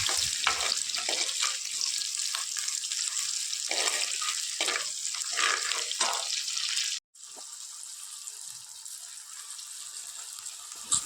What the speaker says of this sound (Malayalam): പുളിയും കൂടി ചേർത്ത ശേഷം ആ എണ്ണയിൽ കിടന്ന് ഇതൊക്കെ ഒന്ന് വാടി വരണം